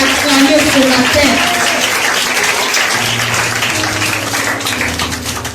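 Congregation applauding during a church service, a loud sustained wash of clapping filling the room, with voices and a low hum running beneath the applause.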